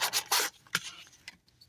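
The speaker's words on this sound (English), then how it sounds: "it takes very little sanding to get those layer lines out" Light hand sanding of a 3D printed plastic tuner part, short dry rubbing and rasping strokes up close, a few quick bursts then fading to quieter scrapes.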